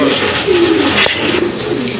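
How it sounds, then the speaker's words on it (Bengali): A pair of local domestic pigeons coo close by in a loud, rolling, repeated call at a pigeon farm sale, with faint voices in the background. "আরেক জোড়া কবুতর, কি দেশি ভাইয়া?"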